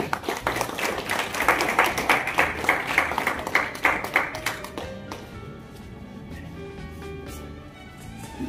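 Warm applause for a golden-jubilee couple at a ceremony in Cegłów: a roomful of people clapping briskly and steadily for about five seconds before it thins out into scattered claps and quiet room noise.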